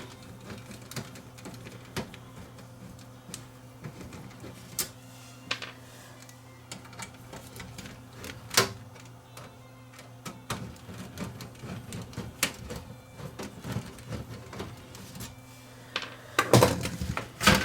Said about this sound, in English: guess these screws do need to come out